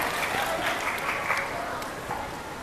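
A training workshop audience claps for a participant, a short burst of dense, steady applause with voices mixed in.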